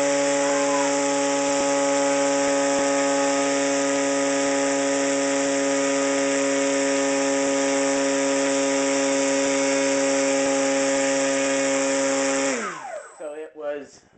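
An electric RC airplane motor spins a 14.7 electric prop at steady high speed, a loud, sustained whining drone that holds level, then spins down and stops near the end.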